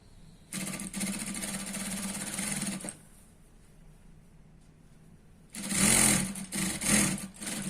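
Sewing machine stitching the folded hem of a churidar pant, running in two loud bursts, the first about two seconds long and the second more uneven, with a quiet pause between them and no talk.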